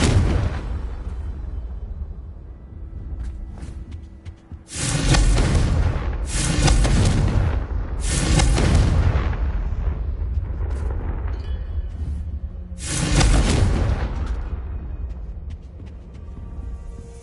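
Fiery blasts of the Confringo explosion spell in the video game Hogwarts Legacy, several loud booming bursts in sequence with broadband roar, separated by quieter game ambience.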